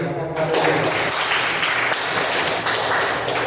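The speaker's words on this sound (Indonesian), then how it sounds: "Jika tidak ada, kasih aplaus dulu." Classroom audience applauding during a group presentation session, a steady dense patter of many hands clapping that holds evenly for several seconds with no gaps.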